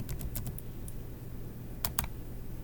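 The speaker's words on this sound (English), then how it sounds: "So I'm going to type my information" Quiet keystrokes tap on a computer keyboard in small quick clusters, a burst at the start and another pair near the end, with near silence between.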